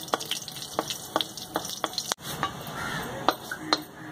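Curry leaves hit hot oil in a wok for tempering coconut chutney, a close, crackling sizzle with a run of sharp pops and spatters, then a brief clatter and continued frying.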